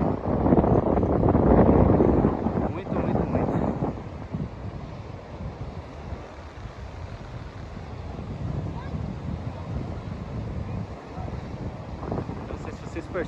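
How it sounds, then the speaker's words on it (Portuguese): Strong wind buffets the microphone on a beach along the Bertioga seafront, a loud steady roar that swells in the first few seconds and then settles into a constant rushing gust with faint surf beneath. "Aqui tá ventando mais do que nas outras praias."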